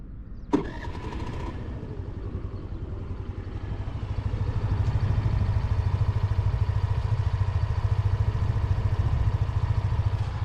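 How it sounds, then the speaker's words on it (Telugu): A Hero Maestro Edge 110 BS6 scooter engine starts with a sharp click and catch, then settles into a steady, low, smooth idle. It grows slightly louder after a few seconds and holds an even hum to the end. "ఒకసారి నేను మీకు ఇంజన్ ఆన్ చేసి చూస్తాను"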